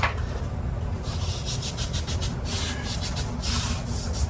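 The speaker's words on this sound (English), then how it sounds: "Sand this whole thing." Rusty part from a garage door torsion spring assembly being sanded by hand, a steady gritty scraping that comes in rhythmic strokes over a constant low background hum.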